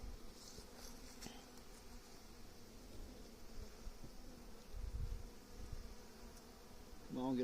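Honeybees swarm thickly over a beehive cover while the hive is being fed in autumn, giving a steady close buzzing drone throughout, with some low handling thumps and a brief faint voice near the end.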